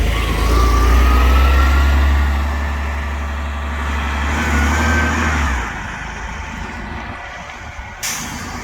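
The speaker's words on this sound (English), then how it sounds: "It's a powerful 10 litre Cummins engine." Vintage vehicle with a 10 litre Cummins diesel engine running at a heritage railway and vintage vehicle event in Fife, Scotland, a loud deep rumble that eases after a few seconds and then idles more quietly, with a brief knock near the end.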